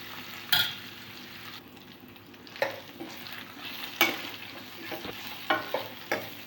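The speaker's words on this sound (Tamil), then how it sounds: "நம்ம வெங்காயம் போட்டு நல்லா வதக்குவோம்." Onions with salt sautéing in a pan for tamarind kuzhambu, a soft continuous sizzle broken by sharp scrapes and knocks of a stirring spoon against the pan.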